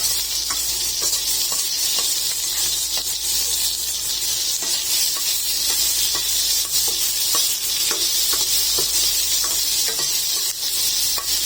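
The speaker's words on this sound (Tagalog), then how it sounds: "Gisa lang po natin ng maigi." Shrimp sizzling and being stirred in a hot pan while sautéing for ginisang munggo, a Filipino mung bean stew; a steady, loud frying hiss runs throughout with scattered clicks of the utensil scraping and stirring.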